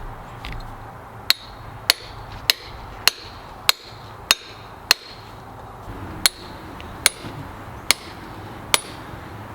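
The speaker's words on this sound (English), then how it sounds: "just trying to switch over and see what just a hammer and chisel would end up doing" A hammer strikes a chisel against hard rock, giving about a dozen sharp metallic clinks at a steady, slightly uneven pace. The blows are close and distinct over quiet outdoor background.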